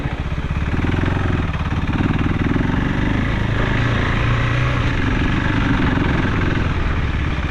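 A KTM 390 Enduro R motorcycle rides off-road, its single-cylinder engine droning loud and steady with a rough, pulsing growl and wind noise throughout.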